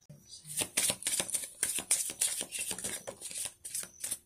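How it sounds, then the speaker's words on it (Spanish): Osho tarot cards are shuffled by hand in a quick run of crisp riffling bursts, close and fairly quiet, with a voice talking faintly underneath. "ahora vamos a barajar con el tarot de Osho"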